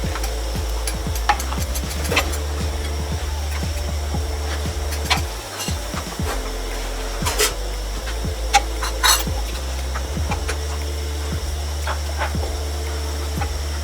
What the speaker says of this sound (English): Once you've put in the soy sauce, continue stirring.